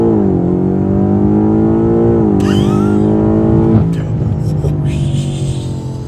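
A tuned BMW M5 running a stage 3 transmission tune on 21-inch wheels accelerates hard, its engine note climbing loud and close through gear shifts while excited voices talk over it.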